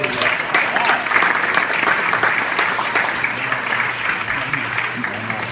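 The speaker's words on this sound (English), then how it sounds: "Let's give them a big round of applause." Audience at a community conversation event breaking into sustained applause, a dense wash of many hands clapping loudly and continuously throughout, with faint voices mixed in.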